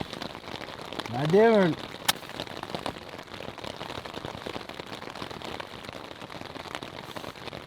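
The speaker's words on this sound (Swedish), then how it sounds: "så slutar det väl att regna." Rain falls steadily by a river, a soft continuous patter on surfaces close by, while a voice speaks briefly and a short rising and falling whistle-like tone sounds early on.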